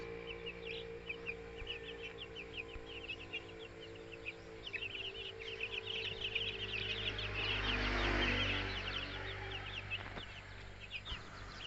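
A flock of about fifty one-month-old heritage chickens clucking and peeping continuously inside a coop, a steady chorus of many birds with a low rumbling hum underneath.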